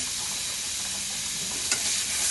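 Ginger and garlic dropped into a tomato masala frying hard in a pan, giving a loud, continuous sizzle with stirring sounds and one brief clatter.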